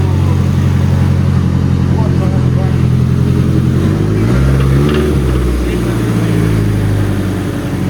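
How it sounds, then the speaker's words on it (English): Toyota Corona car engine running with a knocking fault, a steady, loud, low idle heard close up under continuous talking. "the car has a knocking sound"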